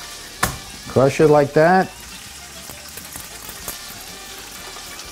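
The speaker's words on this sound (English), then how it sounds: "You hear that sizzle? This is what you want to hear" Sausage browning in a hot pan gives a steady, close sizzle and crackle throughout, with a brief stretch of speech near the start over it.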